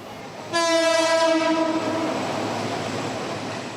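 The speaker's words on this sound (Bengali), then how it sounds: "যেখান দিয়ে কয়েক মিনিট পর পর ছুটে যায় ট্রেন।" A train passing along a railway line running through a market, opening with a loud sustained horn blast that fades into the rumble of the train rolling by up close.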